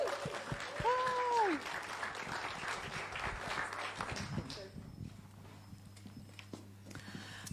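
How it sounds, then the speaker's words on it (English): Church congregation applause for a guest preacher, a brief spell of scattered clapping at the start that fades away into a quieter room with light noise. "Let's give her a round of applause."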